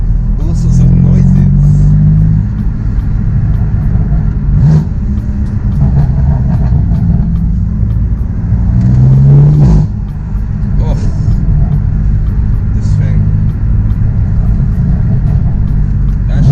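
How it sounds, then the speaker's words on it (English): BMW M4 engine droning loud and close from inside the car, a deep steady rumble with surges of revving and acceleration, while people talk over it. "I know you can hear this car."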